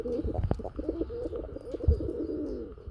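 Pigeons coo nearby in low, throaty, rolling phrases repeated several times, with a faint chirp and a soft thump or two in the background.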